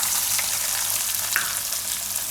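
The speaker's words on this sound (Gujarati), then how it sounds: "થોડીક આપણે હિંગ નાખીશું અને ડુંગળી નાખી દઈશું" Onion and asafoetida frying in hot oil for bread upma give a steady, loud, continuous sizzle with a bright hiss throughout and no talking.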